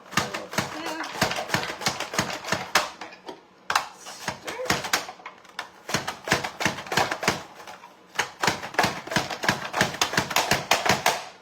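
Knife chopping carrots in half on a cutting board, rapid rhythmic taps in bursts with brief pauses, close and crisp, while someone talks over the chopping.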